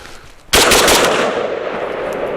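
A WBP Fox rifle fed from a Serbian steel magazine opens up after a quiet half second, a rapid loud string of close shots followed by a ringing outdoor echo tail.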